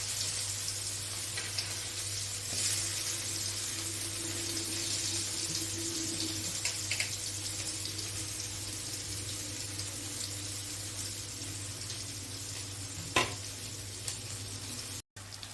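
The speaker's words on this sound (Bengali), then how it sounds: "এইবার এই তেলটার মধ্যে আমি পেঁয়াজ কুচি আর লঙ্কা কুচিটা" Chopped onion and chilli sizzle in hilsa fish oil in a pan, a continuous close frying hiss with occasional stirring taps and no talk.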